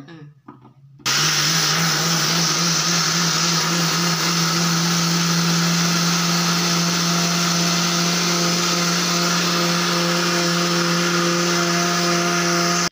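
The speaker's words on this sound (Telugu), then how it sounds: "మిక్సీ పట్టుకోవాలి. దోశ పిండి లెక్కన." A mixer grinder starts abruptly after a brief quiet moment and runs at a loud, steady whine, grinding soaked rice with water into batter continuously until the end.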